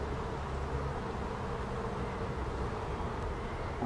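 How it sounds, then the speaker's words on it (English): Honeybees buzz around a hive during a hive rescue, a thick, continuous droning hum that is close and loud for the whole stretch with no talking. "Lots of bees on this one."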